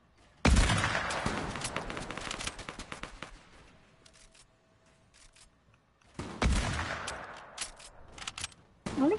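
Bursts of rapid gunfire from the Fortnite battle royale video game, a loud sustained volley at the start, a quieter lull, then another heavy burst of shots near the end.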